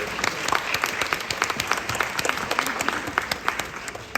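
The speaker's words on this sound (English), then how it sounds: "I think we ought to give all the parents here a big round of applause too for all their support." An audience at a school ambassador pinning ceremony applauds the parents, a steady wash of many hands clapping at moderate distance, even and sustained without a voice over it.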